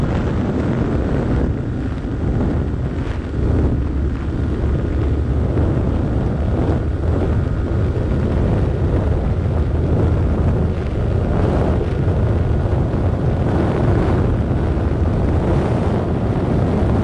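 A Yamaha R15 V3 motorcycle runs at high speed in fifth gear on an empty road, its engine buried under a steady, loud roar of wind buffeting the microphone throughout.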